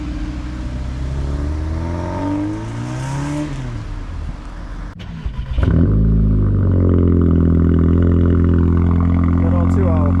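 A Volkswagen 2.0 engine revs at a local VW car meet, climbing and falling through a few throttle blips, then settling into a loud, steady, close-up drone.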